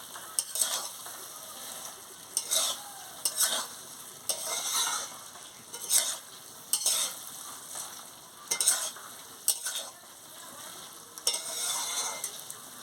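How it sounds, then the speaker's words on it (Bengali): Papaya pieces sautéing in a pan for papaya ghonto, a soft ongoing sizzle broken by repeated scraping strokes of a spatula at irregular intervals, close and fairly quiet, with no talk. "এইভাবে কষিয়ে নিলে খুব দারুণ হবে। আনাজটাকে ভালো করে কষিয়ে নিলেই তো ভালো।"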